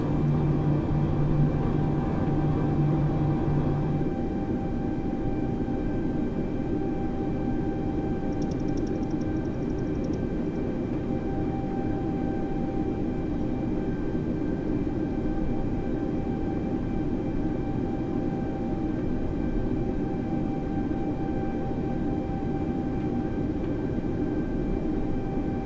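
Airbus A320neo taxiing in Microsoft Flight Simulator 2020, a steady whining engine hum with constant tonal drones and a low rumble, plus a brief extra tone partway through, with no talk.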